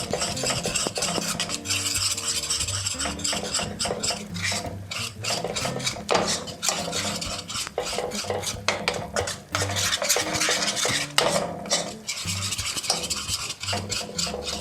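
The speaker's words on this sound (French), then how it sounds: "On va aller chercher la farine qu'on va rajouter tranquillement à notre beurre pour vraiment faire le roux." Spoon or whisk scraping around a pan as flour is stirred into melted butter for a roux, with continuous rasping, rubbing strokes and faint sizzle, close and loud, with no talking.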